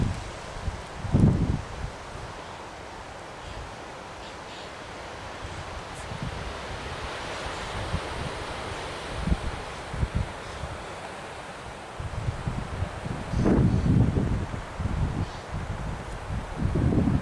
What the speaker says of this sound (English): It's a gusty wind.